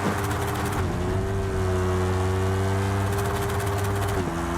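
A motorcycle engine in the game Lanesplit holds a steady droning tone that dips and shifts as the gear changes, loud and continuous throughout.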